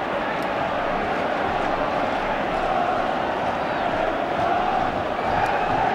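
A Scottish crowd at a sports match cheering and chanting, a steady broad roar of many voices that holds constant throughout with no clear breaks.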